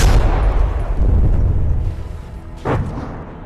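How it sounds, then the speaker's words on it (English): A heavy broadside cannon barrage in From the Depths lands as a loud, rumbling boom that decays over a couple of seconds, followed by a sharper single crack near the end. "those were a fully packed barrage from the broadside cannons"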